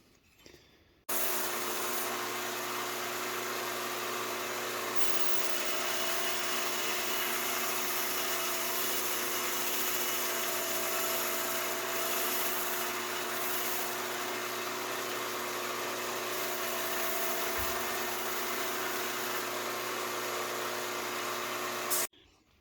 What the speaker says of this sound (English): first thing we did was sand the pins down flush